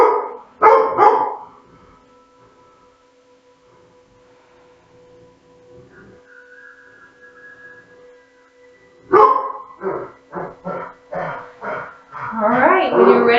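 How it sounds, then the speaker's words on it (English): Dogs bark in several sharp, close bursts at the start and again near the end, with a faint steady tone in between; a person talks over the later barks during a yoga session. "What are you guys barking at,"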